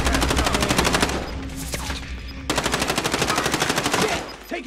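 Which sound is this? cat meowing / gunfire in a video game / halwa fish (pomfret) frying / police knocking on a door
gunfire in a video game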